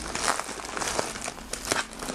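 Plastic packaging crinkles and rustles as a bundled, packed fishing net panel is opened, with steady close crumpling and a few sharper crackles throughout and no talk.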